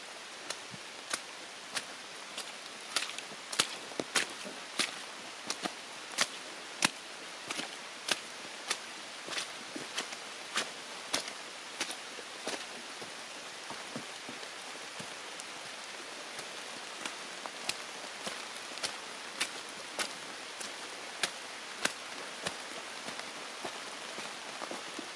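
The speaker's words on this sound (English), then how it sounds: "It's raining, and these are the trails in Vermont." Rain falls steadily on a muddy forest trail in Vermont, with sharp drop impacts and soft footfalls at a close, regular pace under a constant wet hiss, and no talking.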